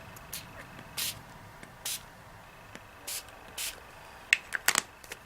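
Several short hissing sprays from a spray bottle, spaced irregularly, followed by a few quick sharper bursts near the end, in a quiet room.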